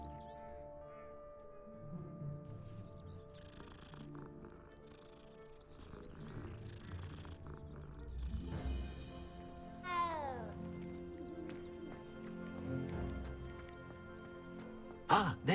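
Cats purring and meowing in the Hogwarts Legacy video game, with high rising meows around the middle and end over a low purring bed, amid game music and ambience.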